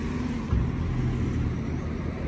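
Road traffic near Bibi Fatima's house in Madina, with a continuous engine rumble from passing cars and a steady mid-level hum throughout, and no voices.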